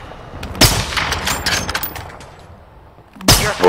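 Video game gunfire with sharp broadband shots near the start and end and a rattle of quieter bursts in between, loud and close with no talk.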